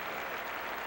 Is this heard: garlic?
no